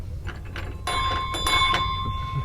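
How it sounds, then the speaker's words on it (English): A bell mounted in the back of a 1981 Chevy G10 custom van rung a few times in quick succession, bright ringing strikes that linger, close and loud with no talking. "You got to have the bell back there."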